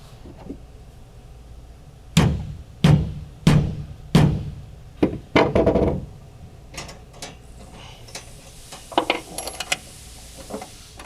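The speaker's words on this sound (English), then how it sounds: "going to give it a few firm taps with the hammer to mark our hole for the rib nut" A hammer gives a series of firm, sharp taps to mark a hole for a rib nut while a Molle panel is installed on a D41 Nissan Frontier, five evenly spaced close knocks followed by lighter clinks and scattered handling noises.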